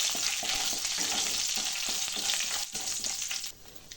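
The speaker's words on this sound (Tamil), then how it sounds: "எண்ணெய் ஊற்றியாச்சு இப்போ நம்ம கடுகு போட்டுக்கலாம் கடுகு உளுத்தம் பருப்பு பருப்பு கொஞ்சம் இதை நம்ம நல்லா வறுத்துடலாம்" Mustard seeds and urad dal fry in hot oil, a steady loud sizzle with crackling pops and occasional stirring scrapes throughout, nothing else heard.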